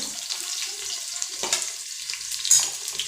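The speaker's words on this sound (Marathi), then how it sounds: "कांदा आपण परतून घेऊया" Chopped onion fries in a pan with a soft, close sizzle of oil, broken by a few brief stirring scrapes and a louder crackle near the end.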